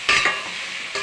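Chicken with salt and turmeric stirred in a cooking pot for chicken kuska: a couple of close scraping strokes near the start, quieter sizzling in between, then another stir at the end.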